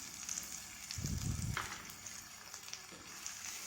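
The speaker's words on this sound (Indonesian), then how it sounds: "Masak sambil terus diaduk-aduk." Around thirty chilies and chopped spring onion sizzle steadily in a pan, with a brief burst of spatula scraping and stirring midway, all close up and without voices.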